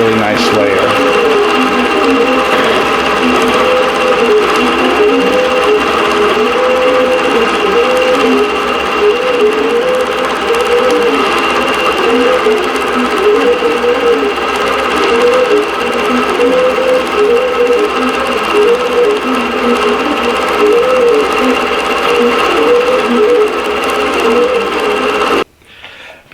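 A quilting machine stitches a tapestry design in variegated thread, giving a loud, steady mechanical hum with a fast repeating cyclic whir that runs unbroken for about 25 seconds before cutting off at the end.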